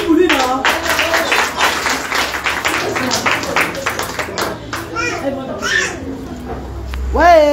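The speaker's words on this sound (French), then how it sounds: "On applaudit pour lui, non?" Children and adults clap together at a lively gathering, a busy rhythmic patter mixed with kids' chatter and shouts, with voices rising near the end.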